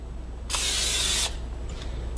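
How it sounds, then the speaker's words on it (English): Non-stick cooking spray is sprayed onto a pan in one steady hiss of less than a second, close and loud, followed by quiet. "I'm just using some non-stick cooking spray to cut down on the calories"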